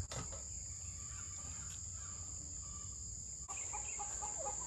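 Backyard chickens clucking softly and intermittently in a faint outdoor setting, with a steady high insect-like hum throughout and a few clearer clucks near the end.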